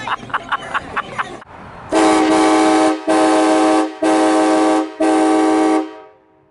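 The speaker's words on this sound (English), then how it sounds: "That is the best sounding train horn alarm ever." A train horn alarm blasts loud and close as a Halloween prank, four long sustained chord blasts with short gaps, following a quick series of beeps.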